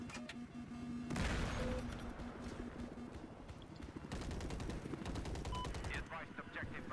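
Rapid bursts of 25mm cannon fire from a scout helicopter in Battlefield 4, dense machine-gun-like volleys in quick succession, loud and near over a whirring rotor drone.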